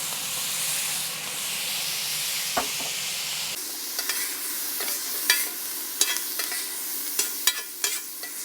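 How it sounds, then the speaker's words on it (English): Worcestershire sauce hits a hot Karbon Steel griddle on a Konnected Joe grill while cooking Philly cheesesteak meat. A loud, close sizzling hiss suddenly cuts off and gives way to scattered metallic scraping clicks. "I'm gonna also throw some W sauce on here to give it extra little flavor."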